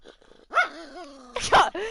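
A dog in The Sims 4 video game gives a growling bark followed by a sharper second bark, close and loud, with a brief whine-like tail between them.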